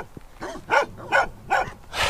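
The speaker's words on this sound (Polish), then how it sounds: "Dwa duże psy na wolności." Two large dogs running loose on a mountain trail at sunset bark in a series of loud, close yips and barks, about four distinct bursts spaced roughly half a second apart.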